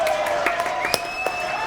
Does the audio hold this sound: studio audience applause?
yes